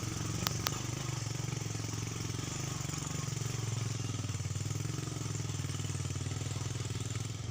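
Motorcycle engine running steadily throughout while riding a rough village road in Indonesia, a continuous low throbbing hum with road rumble, fairly close and loud, with two brief sharp clicks near the start.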